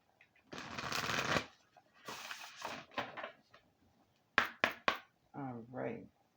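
Oracle cards riffled and shuffled in short bursts, a long steady stretch followed by several quick sharp snaps and flutters, close and fairly loud with brief pauses between and no talk.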